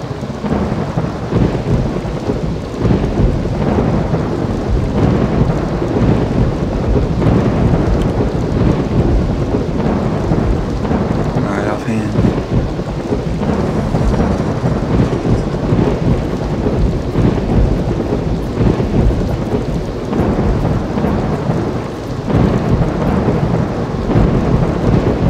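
Heavy rainstorm with rolling thunder in Roller Coaster Tycoon 3, a loud dense wash of pouring rain under deep rumbling thunder that swells and fades repeatedly across the whole stretch, no voices.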